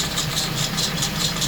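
A car engine idles steadily and close, with a repeating high-pitched chirp from a squeaking belt pulsing a few times per second above the low rumble.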